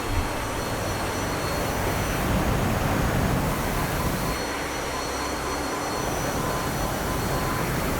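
Jet engine of an aircraft in the DCS flight simulator game spooling up, a steady loud broadband roar with rumbling low end that holds throughout and swells slightly mid-way.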